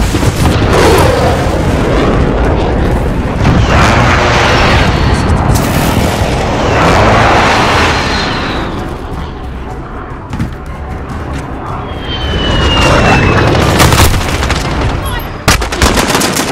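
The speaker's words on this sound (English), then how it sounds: "Be advised, friendly precision airstrike inbound." Precision airstrike explosions in a video game arrive as heavy booms and rumbling blasts layered with gunfire, loud and dense throughout, with a radio voice speaking over the din.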